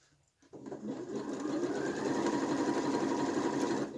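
Sewing machine stitching a t-shirt during an upcycling project, starting after a brief pause and running as a steady, continuous whirring hum that stays close and loud for the rest of the clip.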